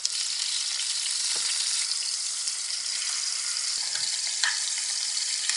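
Kofta meatballs fry in a hot pan with a steady, dense sizzle, close and fairly loud throughout, with a few faint clinks and stirring sounds.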